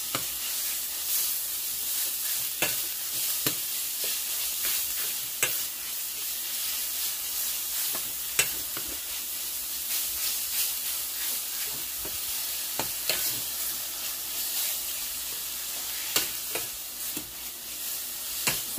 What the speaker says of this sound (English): So you're just going to keep stirring it around until it's golden brown.